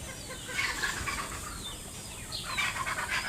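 Several chickens clucking and calling together in a noisy flock as they are let out of a farm, with a faint rustle of movement underneath.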